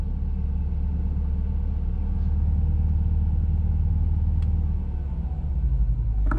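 A Volvo P2-platform car engine idles steadily with the air conditioning running, a low, even rumble close by with a slight unevenness near the end.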